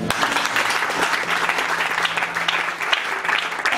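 Congregation applauding and cheering in a church during a temple dedication service, steady dense clapping with scattered shouts and a faint sustained tone underneath, loud and continuous throughout.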